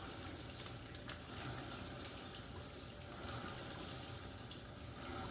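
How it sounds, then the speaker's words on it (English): Tap water runs steadily into a sink over a one-pound packet of raw ground beef being rinsed, a soft continuous splashing with no talking. "And then I run some water"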